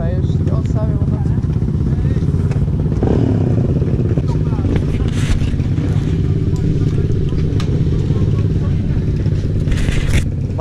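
A motorcycle being moved and parked, its engine rumbling steadily up close with occasional scraping and clattering sounds over the top.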